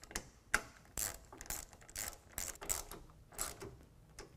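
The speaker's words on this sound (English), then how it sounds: "we can go ahead and tighten this back down with a T40." A T40 Torx driver tightening a bolt on a 2018 Jeep JL soft top, heard as a series of short, sharp clicking and ratcheting taps at irregular intervals, close and fairly quiet.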